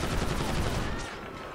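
Oblivion Drones in a modded GTA 5 fire their guns in a fast, continuous rattle of automatic fire that fades slightly toward the end, close and fairly loud.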